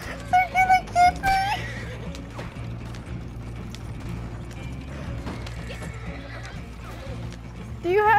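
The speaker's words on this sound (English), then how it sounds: "My horse can't go any faster." Horse in a video game, neighing in a few loud whinnies, then hooves clip-clopping in a quick steady rhythm over mechanical ratcheting noise, with voices talking over it.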